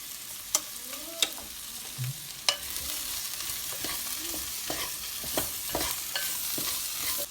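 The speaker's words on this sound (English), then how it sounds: "now after you've given a good mix, sauteed it well" Vegetables for a Kerala-style veg stew are sautéed in a pan, a steady sizzle punctuated by repeated sharp clicks and scrapes of a spoon stirring against the pan, close and moderately loud.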